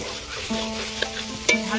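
Okra and prawns are stirred in a pan, with a soft steady sizzle under low hums, a faint scrape and a brighter metallic clink near the end, close and without talking.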